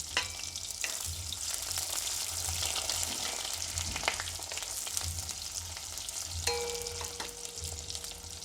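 Green chilies and onions fry in hot oil in a pan for an Assamese lunch thali, a continuous close sizzle with occasional stirring clinks and scrapes.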